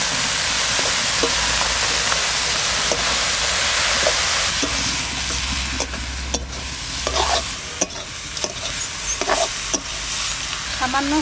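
Greens and fried chirebata river fish, with bay leaf, cumin and green chilli, sizzle steadily in a pan while a spoon stirs and scrapes in irregular clinks.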